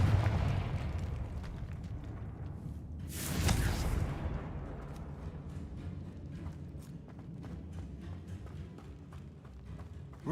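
A Confringo fire-blast spell explodes in the Hogwarts Legacy video game, a single loud whooshing burst that swells and fades over a second or two against steady game background noise.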